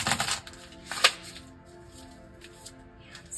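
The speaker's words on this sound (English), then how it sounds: "So let's just shuffle here" A tarot card deck shuffled by hand, with a burst of quick papery riffles at the start and a sharp flick near one second, then softer, fainter card shuffling.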